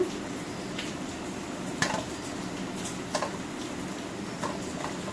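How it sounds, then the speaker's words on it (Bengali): Drumstick leaf fritters fry crisply in a pan with a steady, quiet sizzle, broken by a few light clinks of a utensil against the pan. "মশমশা করে ভাজছি।"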